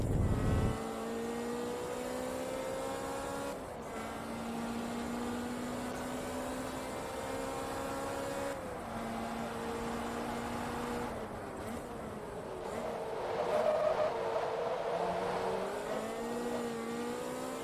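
Ferrari F430 Challenge engine in Forza Motorsport 2, a steady high whine from inside the car that rises through the gears, dips under braking and climbs again, heard alone and fairly loud.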